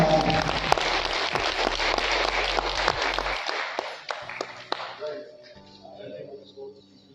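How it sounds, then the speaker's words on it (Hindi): An audience in a town hall applauds loudly at a poetry gathering, dense sustained clapping that fades out after a few seconds while sustained tones carry on underneath. "इससे मैं चाहता हूँ आपको जोरदार तालियां।"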